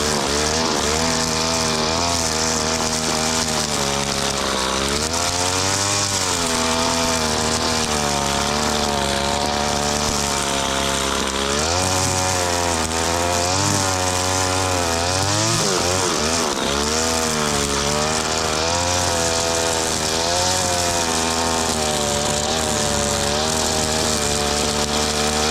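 An older STIHL FS80 string trimmer fitted with an aftermarket Chinese carburettor runs loud and close, its two-stroke engine holding a steady buzzing drone with RPM rising and falling in several surges throughout.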